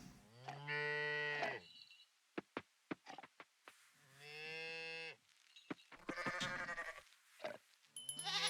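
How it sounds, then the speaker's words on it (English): A cow in the farming video game Coral Island moos several times, long tonal calls near and clear, interleaved with short clicky game sound effects. "Hello, Moo Cow."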